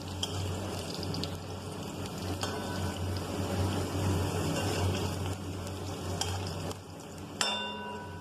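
Steady sizzling of vegetable curry cooking in hot oil, continuous and close, with occasional clinks and stirring noises.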